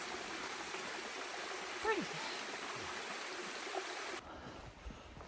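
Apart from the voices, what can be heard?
small waterfall stream on the Appalachian Trail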